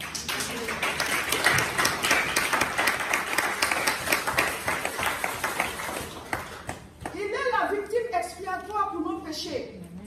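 Church congregation at a Sunday divine healing service claps and cheers to acclaim the Lord, a steady rhythmic clapping crowd with voices, followed by a voice shouting over the noise.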